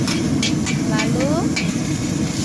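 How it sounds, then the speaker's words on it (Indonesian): Crushed shallots and garlic fry in oil in a wok at a street food stall, making a steady loud sizzle with occasional scraping and stirring clicks up close, and a voice is heard faintly underneath. "Bawang merah dan bawang putih yang sudah digeprek tadi digoreng sehingga harum."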